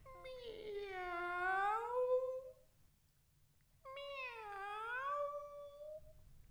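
Two drawn-out, whiny meows a second apart, close and fairly loud, each rising then falling, with quiet low background hum.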